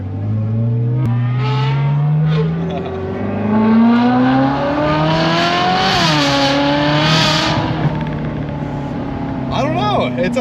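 Ferrari California sports car with the top down, engine and exhaust rising and falling through several revs in a smooth, loud tone heard from inside the cabin.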